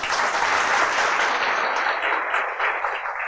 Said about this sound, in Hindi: ताली तो ठीक है, समझ में आया कि नहीं आया?